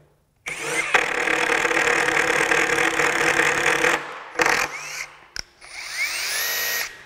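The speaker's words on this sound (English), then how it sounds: "Now here's the self-tapping screw mode. It's gonna start out fast and then slow down." A Metabo HPT 36V cordless triple hammer bolt driver runs in self-tapping screw mode, giving a loud, close motor whir that starts at once and holds for several seconds, then stops in short bursts before ramping up again.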